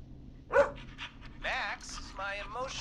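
A dog in a video game barks, yips and whimpers in short bursts over a low steady hum, mixed with brief vocal sounds, close and moderately loud.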